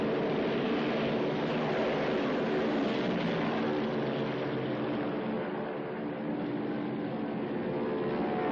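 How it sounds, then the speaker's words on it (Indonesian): Japanese warplanes taking off from an aircraft carrier deck, a steady, loud, broad roar of engines that holds throughout with a slight swell, no voices. "pesawat-pesawat terbang Jepang lepas landas dari dek kapal induk mereka."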